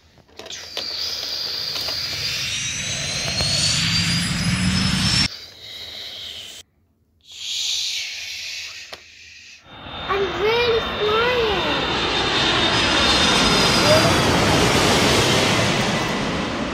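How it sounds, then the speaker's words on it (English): An airplane engine roars and rises in pitch, then cuts out, followed by a louder, sustained engine and rushing wind. No one speaks. "The plane will take off very soon."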